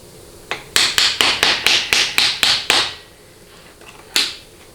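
Screwdriver punched against a transmission servo snap ring during a 4L60E teardown: about ten sharp metallic taps in quick, even succession, close and loud, then a pause and one last tap.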